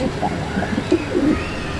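Pigeons on a bird farm give soft, low coos in a few short bursts over a steady background hum, fairly close but not loud.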